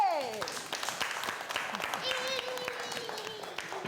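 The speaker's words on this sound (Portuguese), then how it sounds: "Aplauso para Colégio San José" Audience applause for Colégio San José at a school event, with scattered claps under a loud voice and a sustained tone drifting across the mix.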